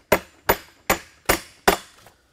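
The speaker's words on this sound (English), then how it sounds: "Take a hammer and just hit the opposite side." A hammer strikes a carriage bolt to knock it out, five sharp, evenly spaced metallic blows landing about every 0.4 seconds, close and loud, with no talk.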